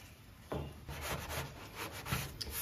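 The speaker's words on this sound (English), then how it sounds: "And you just start sanding up." Steady rhythmic rubbing strokes of sandpaper on a sanding block over a guide-coated car body panel, close and fairly quiet, repeating back and forth.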